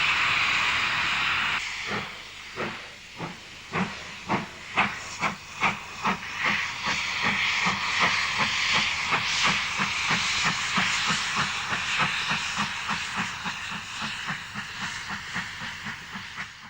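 A steam train on the North Staffordshire Railway comes to a stop at a request halt in 1960, a long hiss of steam broken by a run of rhythmic chuffs that settles into a steady, hissing release.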